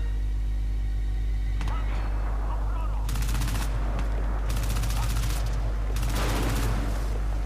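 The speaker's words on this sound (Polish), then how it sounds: "Bardzo ładne wybuchy, kurczę." Crysis 2 shooter game combat: bursts of rapid automatic gunfire and blasts crackle over a low hum, several separated volleys, with someone talking over the action.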